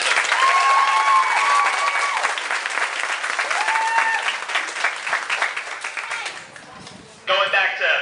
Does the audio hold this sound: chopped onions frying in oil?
no